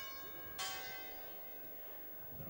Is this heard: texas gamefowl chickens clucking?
no